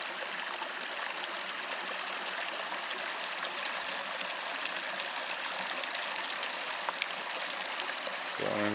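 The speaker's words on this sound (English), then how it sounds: "Oh, a little stream." A small mountain stream flows steadily on a backpacking trail near Kearsarge Pass, its continuous broadband rush and trickle close and even throughout, with no voices.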